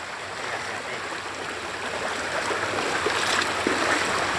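Floodwater of the Kali Kapuk river rushes steadily close by as it overflows toward a bridge, a broad continuous roar with no talk.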